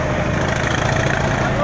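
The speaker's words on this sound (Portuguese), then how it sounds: "Esse é o barulho do motor da lancha aí que está fazendo aí" Motorboat engine running steadily on the São Francisco River near the port of Porto Real do Colégio, a continuous loud drone with no break.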